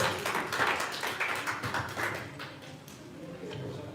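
Applause rings out on a stage as a guest, Asim Sahab, is welcomed at an event celebrating Tasneem TV, Rajasthan's first Urdu channel; dense clapping fills the first half, then thins and fades toward the end.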